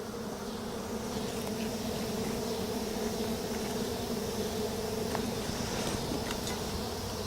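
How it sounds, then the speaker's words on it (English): Honeybees buzz in an opened beehive during an inspection, a dense close continuous hum filling the whole stretch at steady loudness. "boy, there's a lot of bees in here though."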